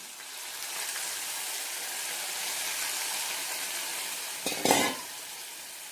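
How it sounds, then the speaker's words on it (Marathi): Milk is poured into rice frying in a pan for rice kheer, giving a steady low sizzle that swells briefly into a louder hiss and splash near the end. "यामध्ये टाकून घ्यायचं आहे आपल्याला थोडंसं दूध"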